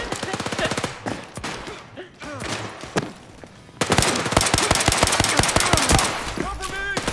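Rapid automatic gunfire and single shots from a zombie-outbreak shooter game, The Walking Dead, loud bursts of rattling fire broken by short pauses, then a long sustained volley, with players talking over it.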